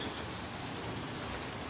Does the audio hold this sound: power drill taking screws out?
no